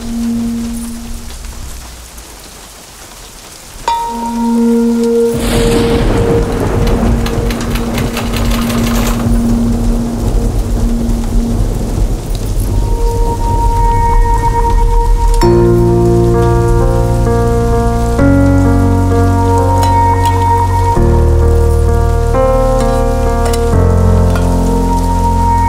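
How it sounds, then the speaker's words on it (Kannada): Heavy rain pours down as a dense, constant hiss that swells in after a quiet start. Steady musical tones play over it throughout. "ಮಳೆ ಬರ್ತಿದೆ, ಆಟೋದಲ್ಲೇ ಹೋಗು ಸ್ಕೂಲ್ಗೆ"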